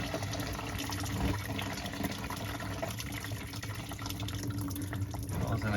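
Coolant pours and splashes out of a Jeep XJ inline-six 4.0L engine with a blown head gasket, a steady broadband watery rush lasting throughout over a low workshop rumble, fairly close.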